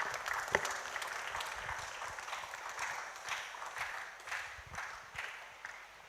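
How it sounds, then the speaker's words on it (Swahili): Audience at a family mental health talk applauding the facilitator, a fairly faint but steady patter of many hands clapping that carries on for several seconds in an indoor room. "Tumpigie makofi mwezeshaji."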